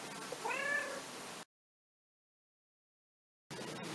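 A female cat meows clearly, one drawn-out call close to the microphone, followed by a stretch of silence and then faint room noise.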